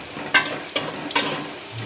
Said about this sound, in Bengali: তো এখন আমি ভালো করে পেঁয়াজটিকে ভেজে নিব।